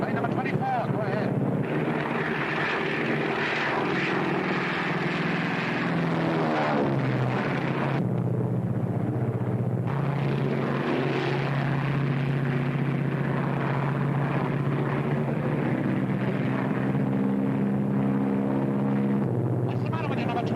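Propeller airplane engine drones steadily through a wartime aerial combat scene, a loud continuous hum with shifting pitch bands, while voices speak over radio-style chatter throughout.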